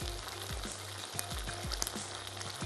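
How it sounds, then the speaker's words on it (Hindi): Oil sizzles in a pan while tom yum soup is being prepared. A soft, even frying hiss runs throughout, with a few faint clicks over it. "शामिल करेंगे हम इसमें थोड़ा सा ऑयल"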